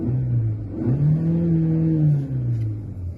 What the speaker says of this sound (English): that's the voice of the turbo.